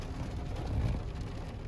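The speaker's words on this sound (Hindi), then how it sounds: "अभी वो देखो इतनी बारिश हो रही है, हवा इतनी तेज चल रही है" Heavy rain falls in strong wind, a dense, constant hiss and patter with a low rumble underneath, steady throughout the short stretch.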